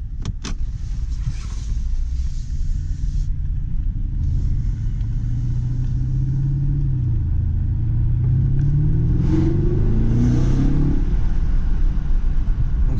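A Fiat 500 engine drones and slowly climbs in pitch as the car accelerates, a steady close rumble that rises over several seconds and drops back, with no speech.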